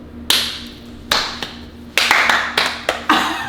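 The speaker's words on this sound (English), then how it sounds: "We're all clapping, guys." Several people clap their hands indoors in a loose, uneven burst of about eight separate sharp claps rather than steady applause, fairly close and loud, with no talking.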